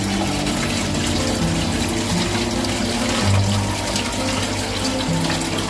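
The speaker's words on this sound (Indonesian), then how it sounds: "air dipompa menggunakan pompa air. Ini adalah pompanya." A home aquarium pool's water pump circulates water through a filter mounted above the indoor fish pool, giving a steady, loud rush of flowing water and low motor hum throughout, with no talking.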